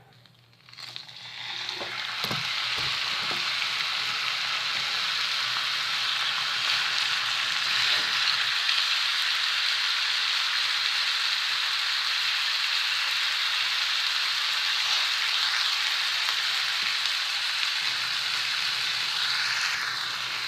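A leg of lamb browns in a hot pan with a loud, steady sizzle and crackle that holds evenly for about twenty seconds, with no voices.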